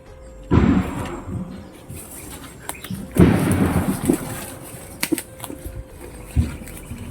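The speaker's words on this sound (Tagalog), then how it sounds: "Lalakas ng mga baril nila." Loud gunfire: several heavy, booming shots crack out at irregular intervals, each trailing into a rumbling echo, with quieter pops between them.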